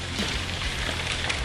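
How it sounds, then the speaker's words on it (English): Hail falling outdoors during a heavy downpour, a dense, loud, constant patter and hiss with no gaps, close by and with no voices. "Hail. It's hailing."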